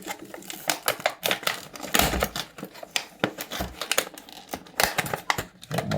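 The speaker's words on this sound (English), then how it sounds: "So what I'd like to do is just go over with my knife," A knife slices through packaging with a dense run of close, scratchy crackling and ticking that continues without a break, loud and alone with no talking.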